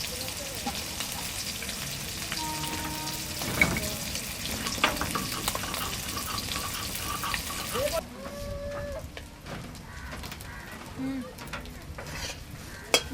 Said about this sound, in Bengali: মাছগুলো ভাজা হয়ে গেছে লাল লাল করে, এই যে দেখো।